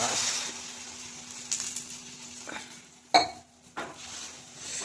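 Utensils clink and scrape against a pan of frying onion and egg for an omelette, a few sharp metallic knocks standing out over a faint background hiss.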